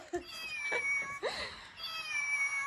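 A cat meows repeatedly in a house-play video game, the drawn-out rising and falling cries sitting over thin, steady electronic tones from the game.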